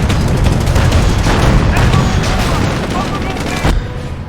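Dense World War II battle gunfire and explosions in Company of Heroes, heavy booming blasts layered over rapid shots in a loud, continuous barrage, with a voice talking underneath.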